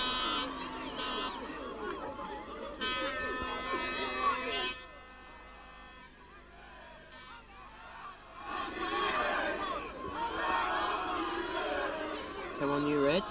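A football crowd at Buckingham Town's ground chants "Come on, you Reds" during an FA Cup first-round match against Orient in November 1984. The chant rises in loud waves beneath a commentator's voice, with crowd babble in between.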